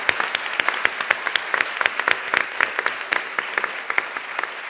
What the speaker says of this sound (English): a big, big applause for our panelists and for Clemson University